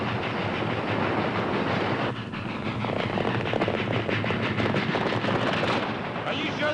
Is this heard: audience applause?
no